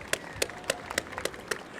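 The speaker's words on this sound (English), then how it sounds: "Let's clap for that." Scattered audience applause at a World Refugee Day gathering in Chicago, a handful of separate, fairly faint claps spaced irregularly across the moment rather than a full ovation.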